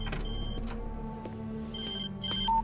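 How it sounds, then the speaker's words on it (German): A telephone rings in the video game Alan Wake Remastered, its electronic tone sounding in short repeated bursts over a steady low game ambience, with no voices. "Telefon. Entschuldigung, ich muss da rangehen."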